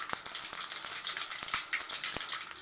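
Fennel seeds sizzle and crackle in hot oil for an egg curry, a dense close frying hiss scattered with sharp popping ticks, with no voices.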